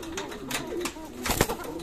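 A solid black Arabian Kokka pigeon calls in a pigeon loft, giving a few soft, low coos with a louder burst near the end, heard fairly close.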